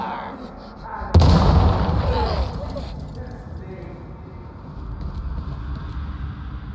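A grenade blasts in Warhammer 40k: Darktide, one sudden loud boom that rolls off into a rumbling decay, then settles into low game ambience.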